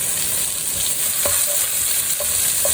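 Onions sautéing in a pot for a one-pot vegetable pulao, giving a loud, continuous bright sizzle with a few soft spoon scrapes, close up and with no speech.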